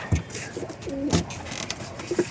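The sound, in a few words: pigeons cooing in a loft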